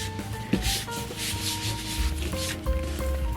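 Steady hand rubbing across a printed sheet being transferred for a custom product box, a soft continuous scrubbing with repeated strokes over low background hum.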